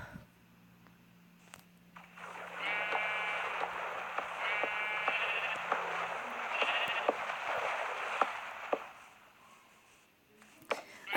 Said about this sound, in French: je prends mes moutons.